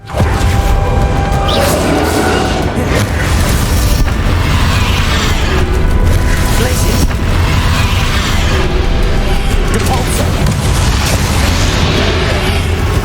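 Spell blasts from Hogwarts Legacy, the Confringo and Bombarda attacks, boom and burst in a loud, dense barrage that runs the whole time, with rumbling impacts overlapping and no pause between them.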